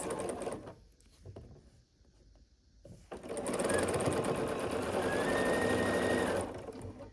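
A sewing machine stitches a half-square-triangle unit for a churn dash quilt block, starting with a few short bursts and then settling into a loud, steady whirring run that stops near the end.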